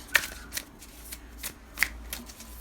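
Thin matte-finish tarot cards being shuffled by hand, a few quick riffling bursts of papery flicking spread over a couple of seconds, close and fairly quiet.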